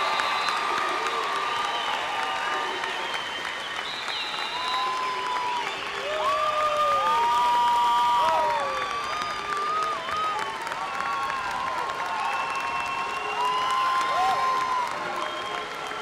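A large crowd at the WTAMU spring 2018 commencement ceremony applauds steadily and at length, with cheers and whoops rising through the sustained clapping from a distance.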